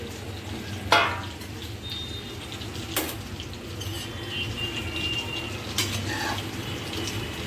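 Brinjal and potato vegetable cooking in a pan, with a low steady simmer and sizzle and a few sharp scrapes and knocks of a spoon stirring against the metal, quiet and close.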